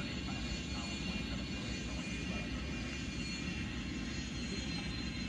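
Airbus A310 jet engines in the flight game Airline Commander, a steady, loud airliner roar held evenly throughout, with no voices over it.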